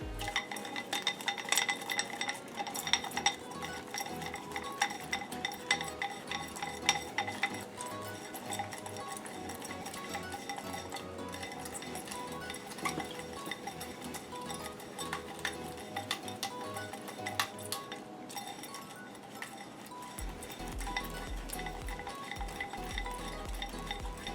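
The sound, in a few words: whisking a sauce in a bowl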